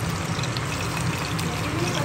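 Water poured steadily into a cooking pan holding fried chicken and garlic, a continuous close splashing rush lasting about two seconds with no talk over it.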